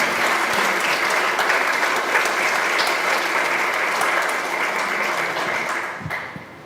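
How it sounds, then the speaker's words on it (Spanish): An audience at a posthumous tribute ceremony at Teotihuacan claps loudly and steadily, a dense applause that tapers off at the end. "Para él, un fuerte aplauso."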